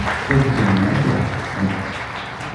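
Crowd applause at a Navajo music and dance event in Page, Arizona, following a brass dance performance; steady, dense clapping holds throughout at moderate loudness, with some faint voices mixed in.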